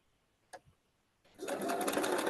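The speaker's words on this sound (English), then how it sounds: "Okay, Candy, not only did I get an awesome sewing machine, but it has my favorite color on it" A couple of soft clicks come first, then a sewing machine starts up and runs at a steady, fairly loud whir until the end.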